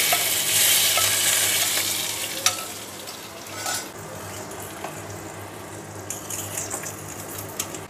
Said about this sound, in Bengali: ফোড়ন হয়ে গেছে, এবার মাংসের ভিতরে ঢেলে দিচ্ছি